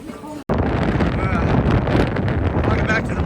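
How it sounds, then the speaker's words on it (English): Strong wind buffets the microphone at a port in Santiago de Compostela, a loud, rough, low rumble starting abruptly after a brief gap and continuing throughout, with voices talking underneath. "It's windy out here."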